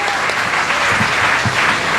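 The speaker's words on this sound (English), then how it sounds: "Let's give them a round of applause for helping me out." Loud, dense audience applause for volunteers at a chemistry talk on hydrogen burning, a close, continuous roar of many hands clapping throughout.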